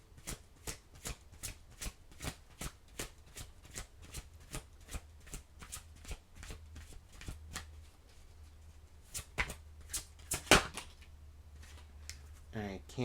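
Oracle cards being shuffled: a long, steady run of rapid crisp card riffles close to the mic, quiet, ending with a few louder snaps and rustles.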